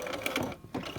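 A sewing machine stitching a piped pocket with a regular presser foot, a quick run of rapid needle clatter that breaks off briefly and then resumes, close by and fairly quiet.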